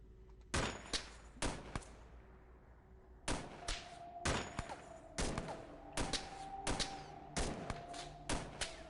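Sniper rifle fire in the turn-based strategy game The Xcom Files: a series of sharp, loud gunshot cracks, some in quick pairs, spread across the clip with short ringing tails and no voices.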